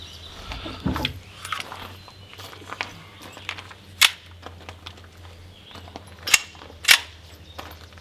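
A Hi-Point 10mm JXP pistol fires Blazer 180-grain FMJ rounds outdoors, a few sharp loud reports spaced apart with quieter handling noises between them.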